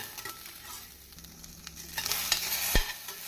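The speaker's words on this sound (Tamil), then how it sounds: "இஞ்சி பூண்டு விழுது போட்டு வெங்காயத்துடன் நன்றாக கலந்து விடவும்" Ginger garlic paste is stirred into frying onions in a pan, with a soft sizzle under scattered scrapes and clinks of the spoon, ending in a sharp knock against the pan.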